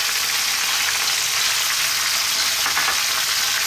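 Browned lamb and onion fry in a pan, a steady, dense sizzle with faint stirring scrapes, close up and continuous, with no talking.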